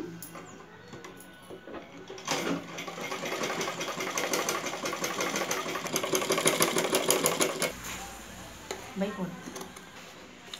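A sewing machine stitches lining to the main cloth for sleeve pieces, its motor running in one steady stretch of rapid needle chatter at moderate volume, with talk before and after.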